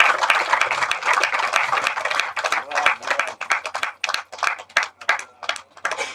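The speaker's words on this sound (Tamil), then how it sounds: "சோ அவருக்காக ஒரு பலத்த கரகோஷங்கள் நாம வந்து கொடுத்துடலாம்" Applause from the crowd at a Tamil film audio release for the music composer, a dense burst of clapping that thins into separate claps toward the end.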